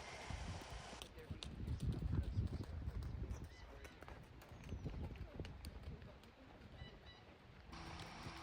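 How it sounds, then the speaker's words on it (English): An off-track Thoroughbred trots through a dressage lesson in an arena, its hooves clip-clopping in a steady rhythm at moderate distance, with birds twittering around it. "we're just working on finding a nice forward trot, making sure we have control over the outside shoulder"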